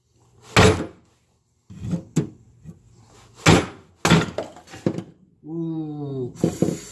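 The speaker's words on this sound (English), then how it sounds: "that knife slammed down onto my vise." A cheap bowie knife is slammed down onto a metal vise in repeated testing, giving several sharp, loud impacts with short gaps between them. A brief voiced exclamation follows near the end.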